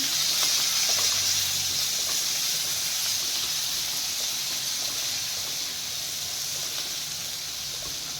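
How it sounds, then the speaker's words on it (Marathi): Onion sautéing in a hot pan with a pinch of asafoetida for a chakvat vegetable dish, giving a steady, close sizzling hiss that fades slightly over time, with no one talking. "कांदा टाकायचा आहे कांदा व्यवस्थित थोडस परतून घेऊया आधी"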